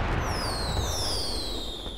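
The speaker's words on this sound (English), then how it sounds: "Fireworks." Fireworks in a video game set at a moped meet, with long whistling rockets gliding downward in pitch over a steady crackling, rumbling background and a sharp burst at the end, with no speech.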